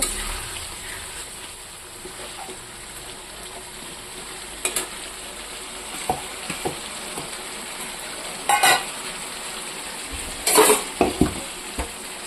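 Potatoes and jackfruit seeds frying in a spiced pan with a steady low sizzle, broken by several sharp scrapes and clinks of a utensil stirring them, with no talk.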